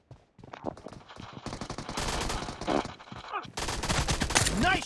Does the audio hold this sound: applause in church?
no